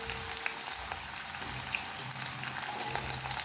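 Radish pieces frying in hot oil, a steady close sizzle and crackle with small pops throughout, no talking.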